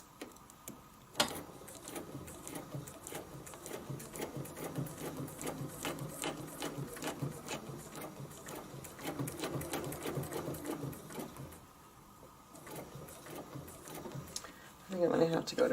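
A sewing machine stitches feather designs into a quilt border in a fast, steady mechanical chatter. It pauses briefly near the end and then starts again, with someone talking quietly underneath.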